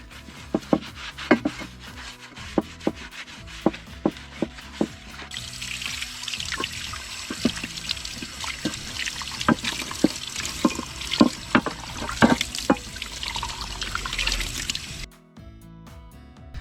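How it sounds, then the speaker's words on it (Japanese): Water runs from a tap while Honda NSR50 motorbike parts are scrubbed with kitchen detergent, with frequent close knocks and clatters of the metal parts against the sink before the flow stops. "台所洗剤で洗うと、少し脱脂効果があります。"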